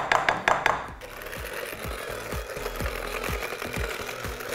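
An electric stand mixer churns chocolate chip cookie batter on low speed, producing a steady close whir with a rhythmic low thump on each rotation after a few brief clatters at the start.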